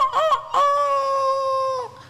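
A rooster crows once at close range, loud and clear: two short rising notes, then a long sustained call that drops off at the end. No voices accompany it.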